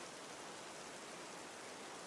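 Rain falls as a steady, even hiss of dense drops with no breaks, faint and continuous, no voices.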